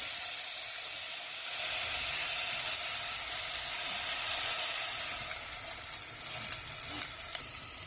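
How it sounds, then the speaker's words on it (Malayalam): Samak rice with turmeric powder sizzles and sautés in a pan, a steady close hiss with faint stirring scrapes and no talk. "ഇത് നല്ലോണം ഇളക്കി കൊടുത്ത് കുറച്ച് സെക്കൻഡ്സ് വഴറ്റാം."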